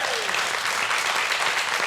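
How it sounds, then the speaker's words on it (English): A studio audience on a cooking competition show, MasterChef Australia, breaks into dense, steady applause for a contestant after her trifle dish, with sustained clapping filling the whole moment. "big round of applause for Leanne"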